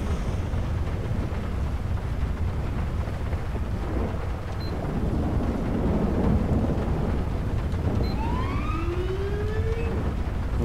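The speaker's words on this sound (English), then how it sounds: "code three Z3 siren with the rumbler." A police car's Code 3 Z3 siren with rumbler wails close by, its sweeping tone rising near the end over a heavy low rumble and storm noise.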